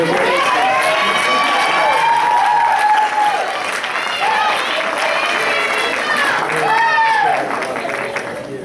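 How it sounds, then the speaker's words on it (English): A ceremony audience at a white coat ceremony applauds loudly and steadily, with cheers and whoops rising and falling over the clapping and some voices mixed in. "Let's get them a round of applause."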